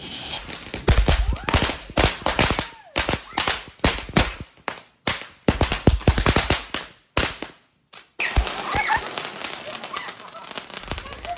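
Firecrackers bursting during a Vishu celebration in light rain, a rapid string of loud sharp cracks and pops in irregular bursts with brief gaps, followed by fainter crackling.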